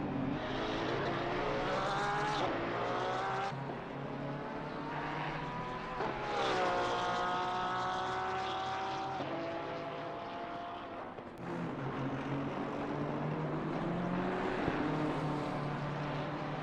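GT3 race car engine in the racing game Assetto Corsa Competizione at Zolder, a sustained loud engine note rising and falling through gear changes, with pitch sweeps as the car accelerates and shifts, heard continuously without talk.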